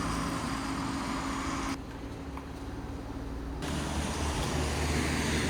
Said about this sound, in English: As you can see, the traffic lined up, all the cars.